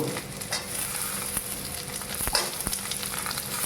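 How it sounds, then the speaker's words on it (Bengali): Small fish sizzle steadily in a pan for a fish chorchori as potatoes go in, with a close, even frying hiss and a few soft stirring scrapes. "একটু লাল করে ভাজা হয়ে গিয়েছে এখন আমি দিয়ে দিচ্ছি আলু"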